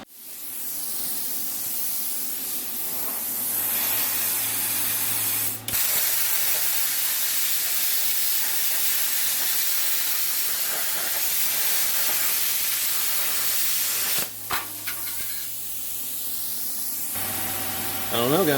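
An Everlast PowerPlasma 50s plasma cutter slices through 22 gauge sheet metal, a loud steady hissing roar that runs almost unbroken, with brief cutoffs and a crackling burst near the end.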